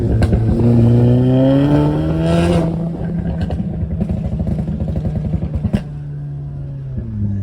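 A 2015 Audi S3 with a stage 2 tune revs hard, engine pitch climbing steeply and loud up close, then dropping to a rough, burbling idle with clattery pops and a brief blip near the end.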